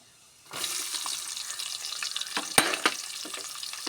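Cloves, cinnamon and cardamom sizzle in hot fat, the frying starting suddenly and holding a steady bright crackle, with a few sharper pops and stirring clinks close by.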